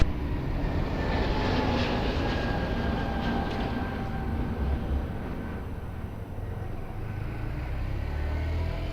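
An airplane on approach to land on runway 02 at Lisbon Airport gives a steady, broad engine roar heard from a distance, holding fairly even throughout.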